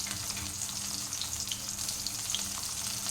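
Fish pieces fry in a kadai with a constant, moderate crackling sizzle, heard up close with no talking.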